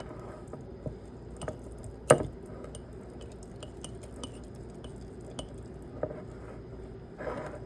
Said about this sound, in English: So I'm going to just stir it up.